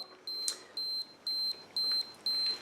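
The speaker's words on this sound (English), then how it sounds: "Oh, now the little beeper's going now." Self-timer beeper on a Minolta 7000i film camera, five evenly spaced high electronic beeps about half a second apart, close and clear against quiet room noise.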